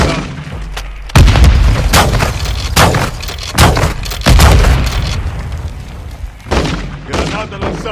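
Flashbang and grenade explosions in Call of Duty Modern Warfare 2 Spec Ops co-op: a run of loud, sharp bangs and booms at irregular intervals, close and punchy, with glassy debris among them.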